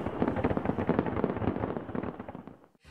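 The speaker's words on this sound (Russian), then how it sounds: "За салюты и фейерверки." New Year fireworks and firecrackers burst in a dense, continuous barrage of cracks and pops, then die away abruptly at the end.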